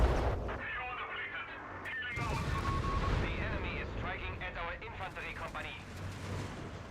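Incendiary strike lands in Company of Heroes 3, a rumbling burst of artillery-like fire and crackling blasts under a dense battle soundscape, with a caster talking throughout.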